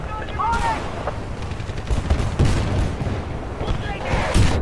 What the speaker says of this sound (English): now they're shooting me